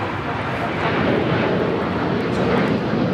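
A jet airliner rolls for takeoff on runway 25 right at Los Angeles International Airport, a broad, steady engine roar that swells slightly and holds throughout, with no pause.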